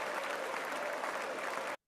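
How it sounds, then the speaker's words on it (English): Steady, dense applause from a large audience at a Donald Trump speech, continuous and even throughout before cutting off abruptly. "Audience really getting into that, applauding."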